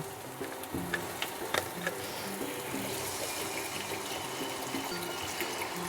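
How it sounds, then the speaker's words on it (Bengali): Water running and pouring into a pan of simmering potato curry, a steady splashing wash with faint sizzling beneath, close and continuous without speech. "তো এবার এর মধ্যে আমি জল দিয়ে দেব"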